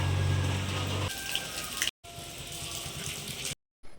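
Water running at a temple entrance foot-washing tap, a steady close splashing flow that stops briefly twice.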